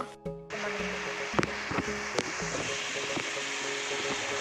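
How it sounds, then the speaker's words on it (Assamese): Chicken and potatoes fry in a pan for an Assamese chicken dish with elephant apple, a dense continuous sizzle with a few knocks of a utensil against the pan early on. "এতিয়া আলুখিনি মাংসখিনিৰ লগত খুব ধুনীয়াকৈ ভাজিব লাগিব।"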